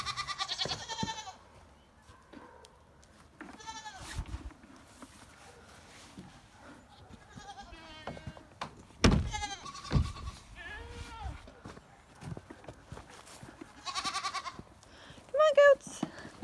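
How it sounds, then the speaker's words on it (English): Several goats bleat at close range, wavering calls scattered through the clip, mixed with a person talking and some rustling movement. "Alright, goaty goats."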